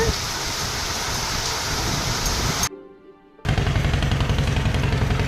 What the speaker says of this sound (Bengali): বৃষ্টি একটু কমেছে